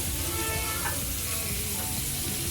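Fish frying in hot oil at home gives a steady, dense sizzle that holds evenly throughout, with faint clinks and a little background noise and no speech.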